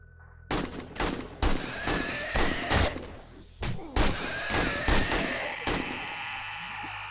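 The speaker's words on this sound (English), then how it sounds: "Terrible shooting, mate." Repeated gunshots from a firearm in the survival game 7 Days to Die, a string of sharp, loud bursts spaced irregularly over several seconds, alone without talk.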